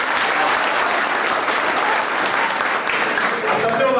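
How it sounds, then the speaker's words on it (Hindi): Sustained applause from a school audience at a counselling seminar in an inter college hall, dense steady clapping throughout with some voices mixed in underneath. "तो तालियां हो जाए एक बार।"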